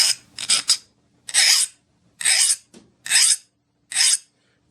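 A hand file rasps across a hardened steel knife blade freshly quenched in vegetable oil, six short separate scraping strokes with brief pauses between, close and fairly loud, with no talk.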